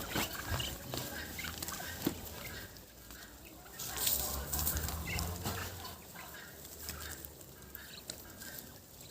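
Six ducks and a flock of hens on a backyard poultry run, their quacks and clucks scattered and fairly faint among outdoor background noise, with a louder burst of calls in the middle.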